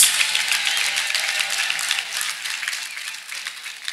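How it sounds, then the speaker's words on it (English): A large church congregation claps steadily, a dense, sustained wash of applause that holds its level throughout without voices rising above it. "can you make the clapping more thunderous?"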